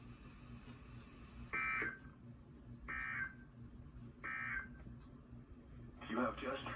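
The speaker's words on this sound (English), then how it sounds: "You have just heard a test of the National Weather Service Radio warning alarm feature" A NOAA National Weather Service Radio warning alarm test tone sounds as three short, loud, shrill beeps spaced evenly apart over a broadcast hum. A fourth, rougher burst follows.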